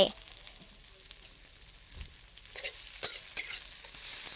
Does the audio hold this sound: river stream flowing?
no